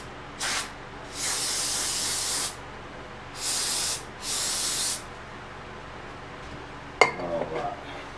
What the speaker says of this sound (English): Let me kind of give it a spray job here.